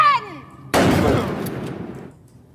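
A single loud gunshot cracks sharply, then its echo decays over about a second and a half, after a brief voice at the very start.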